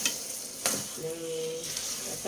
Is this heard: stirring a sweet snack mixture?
yes